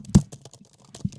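A few quick keystrokes tap on a computer keyboard, close and fairly soft, with one sharper click near the start and another about a second later.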